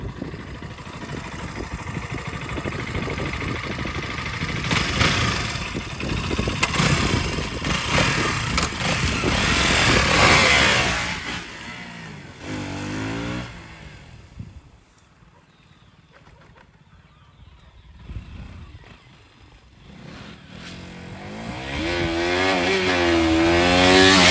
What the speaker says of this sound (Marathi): आता आपण आपली बाईक कशी वाजते ते आपण एकदा चेक करू